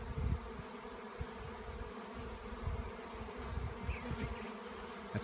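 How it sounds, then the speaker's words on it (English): A honey bee swarm moves into a trap, its steady buzzing hum continuous and fairly faint throughout, with no talking. "This is a pretty decent sized swarm moving in."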